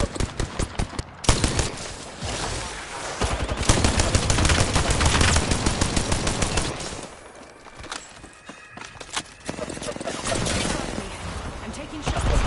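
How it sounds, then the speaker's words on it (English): Rapid video game gunfire crackles in dense bursts and volleys, loud and close, with brief lulls between rounds and a synthetic game voice speaking over parts of it. "Shot fired. There may be a shooter nearby."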